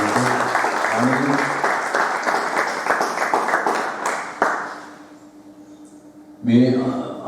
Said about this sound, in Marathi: मी पुन्हा एकदा टाळ्या वाजवून त्यांचं स्वागत करायला म्हणतो